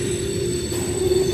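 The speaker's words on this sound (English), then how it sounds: "This train's currently going on a curb section, so that's why this train, as you can see, is like scraping a lot louder" A train rounds a curved section of track at a railroad crossing, its wheels grinding and scraping against the rails in a continuous loud metallic squeal with a steady rumbling roar beneath.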